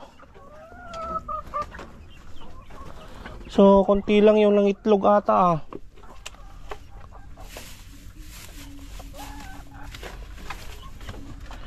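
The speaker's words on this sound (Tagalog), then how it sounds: "Dito na tayo sa ating mga 5 months old na manok" Five-month-old hens cluck and squawk loudly in a burst near the middle, with a person speaking briefly before and farmyard noise around.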